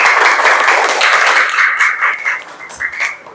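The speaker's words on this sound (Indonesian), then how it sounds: "tepuk tangan buat kelas 4A." Class 4A schoolchildren clapping in a classroom, a loud burst of many hands that thins into scattered claps and fades after a few seconds.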